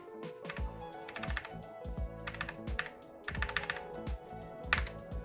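Rapid bursts of keystrokes as a password is typed on a computer keyboard, clicking in uneven clusters with short pauses between, close and clear with no talking.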